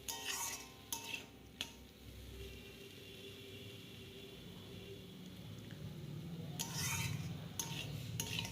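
A radish chechki with coriander leaves stirred in a pan, soft scraping and rubbing of a spatula with a few metal clinks and a faint low sizzle, close and quiet.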